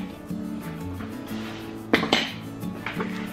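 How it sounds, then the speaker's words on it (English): Spoon stirring sour cream into a thick cream cheese mixture in a bowl, a few close clinks and scrapes against the dish with quiet kitchen background between them. "And stir that in."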